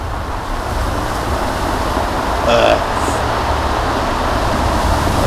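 Steady wash of waves breaking along a shipwreck-strewn shore in the video game The Last Door, a continuous broadband roar with a brief brighter swell near the middle.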